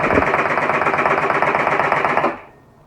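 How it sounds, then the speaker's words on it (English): Starter motor on a Suzuki LT80 quad cranking slowly and laboriously, a loud rapid rhythmic churning pulse for about two and a half seconds before it cuts off into quiet. "I turn it over, see, it barely wants to turn over. The starter motor is engaged."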